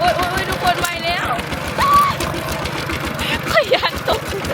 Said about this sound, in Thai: ประสบการณ์การขับรถไถครั้งแรก